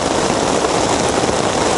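Heavy rain pours down steadily in a broadband, unbroken hiss while a bicycle trip along the road to the Lycian tombs in Dalyan, Turkey waits it out. The downpour is loud and close, with no voices.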